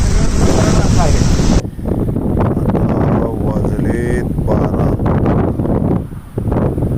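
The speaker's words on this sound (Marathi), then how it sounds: "अकरा ते बारा वाऱ्याचा वेग आहे चौतीस किलोमीटर ताशी" Strong wind of about 34 km/h blows across the microphone outdoors, a loud, steady rushing roar throughout, with someone speaking over it.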